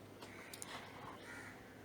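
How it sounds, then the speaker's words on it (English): A talking bird in a children's story squawks in a few short harsh calls over a steady noisy background, with no talk during the cries. ""Stop thief! Stop thief!" cried the talking bird."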